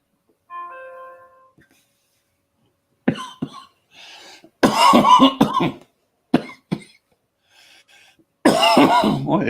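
A brief tone, then a series of harsh coughs from smoking a cannabis spliff, in bursts, some short and spaced, others longer fits, close and loud.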